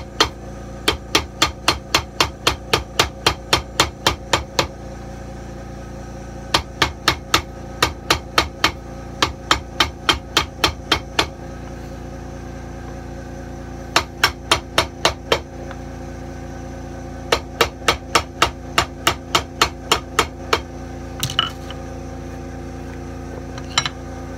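Rapid bursts of sharp, ringing hammer blows on a shoe's leather welt and sole, delivered in quick runs of a dozen or so strikes separated by short pauses.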